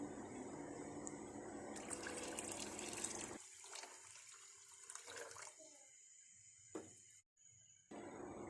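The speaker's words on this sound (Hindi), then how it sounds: "उतना ही पानी इसमें डालना है।" Water pours steadily into a cooking pot for black chickpea rice pulao, a loud rushing splash for about three seconds that then thins into quieter trickles and drips.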